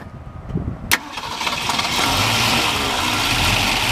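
A 1965 Ford Mustang fastback K-code V8 cranks with a brief whir and a sharp catch, then fires up and settles into a steady, rumbling idle nearby, its solid lifters audible.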